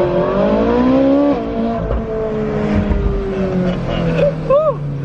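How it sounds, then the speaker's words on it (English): Porsche racing alongside a Bugatti, engines roaring and revving up through the gears with a rising then falling whine, close and loud, with a brief shout near the end. "that Porsche ran up against us. Race, yeah, man."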